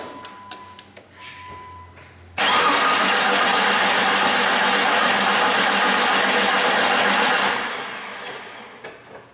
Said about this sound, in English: I'm gonna go crank it.